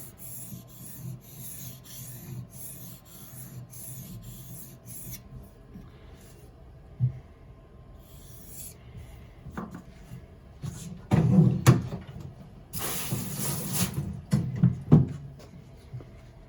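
A knife blade is drawn repeatedly across a whetstone in rhythmic, rasping strokes, soft at first and growing louder and more forceful toward the end, recorded close up.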